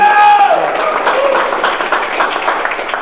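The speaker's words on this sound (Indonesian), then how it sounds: "Tepuk tangan buat guru kita sekalian, Ang Edi Suwandi." Audience applause for a teacher at a gathering, a dense burst of clapping that stays steady, with voices calling out over it near the start.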